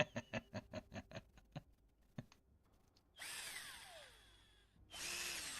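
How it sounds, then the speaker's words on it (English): Cordless drill in the Project Zomboid video game: a run of quick whirring bursts in rhythm, then a longer whining spin-up and steady drilling that stops and starts again, moderately loud with no talk. "cordless drill. I gotta try that."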